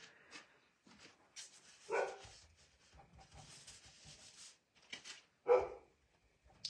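A dog barks a few times at a driveway alarm, quiet and somewhat distant, with short sharp yaps scattered over a faint background, no talking.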